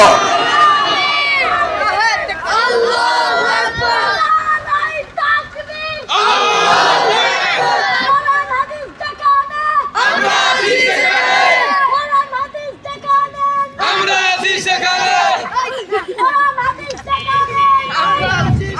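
A crowd of young men at a religious gathering shouts takbir together in several loud unison bursts, each swelling chant separated by a preacher's amplified voice between them.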